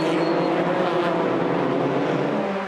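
Formula Ford race cars roaring at the Clipsal event, a loud continuous engine drone close by, holding steady with a slight pitch sweep as they pass.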